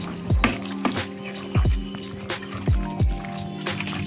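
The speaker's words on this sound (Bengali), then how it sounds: "এদিকে দেখো কড়া গরম হয়ে গেছে, এবারে তেলটা একটু দিয়ে দিই" Mustard oil glugs from a bottle into a hot pan in several short pours, each a close, gurgling splash that drops in pitch, over a steady background hum.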